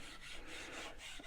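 Steel wool rubs along a dry cedar axe handle in quick, close back-and-forth rasping strokes, soft and faint, with no talking.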